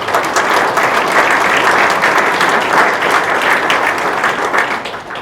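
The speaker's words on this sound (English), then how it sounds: "How about a big round of applause for all of them?" Dense, steady applause from a breakfast audience thanking sponsors, a continuous wash of many hands clapping close by that holds for several seconds before easing slightly at the end.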